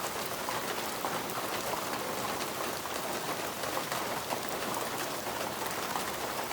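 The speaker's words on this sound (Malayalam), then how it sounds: "മഴത്തുള്ളി വീഴുന്ന ഇതാ കാണുന്നത്" Rain falls steadily onto a pond, a soft continuous patter and hiss with scattered droplet splashes, fairly quiet and unbroken.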